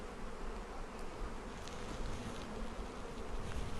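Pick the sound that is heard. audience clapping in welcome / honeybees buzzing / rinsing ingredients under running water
honeybees buzzing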